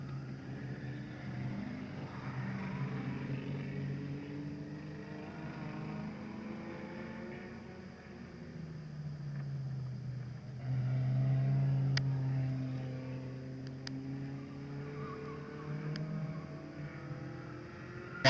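Four-cylinder stock cars of a crash-and-burn division at a speedway rumble off a straight start for their feature race, a steady blended engine drone with rising and falling pitch, heard from a distance and with no talk over it.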